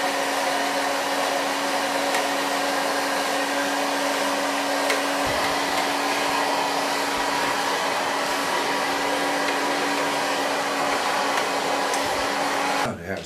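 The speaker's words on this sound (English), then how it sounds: "Hair going to blow dry it with a medium brush." A hair dryer blows steadily as hair is blow-dried with a medium brush, a loud, even whirring drone held for the whole stretch before cutting off at the very end.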